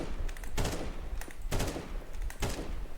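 Gunfire from Counter-Strike 2 on a practice map: three short loud bursts of rapid shots spaced about a second apart, with no talking.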